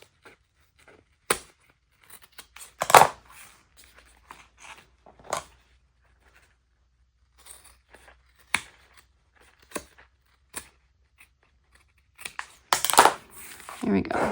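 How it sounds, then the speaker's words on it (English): Sharp scissors cut through leather and tape for a sling. Quiet, separate snips and crinkles come at irregular intervals, close by, with near silence between cuts. "I've got my not so great scissors, but sharp enough to cut through leather and this tape here."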